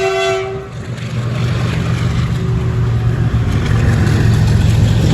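A brief horn blast gives way to a loud, steady rumble as a heavy diesel freight train rolls past nearby.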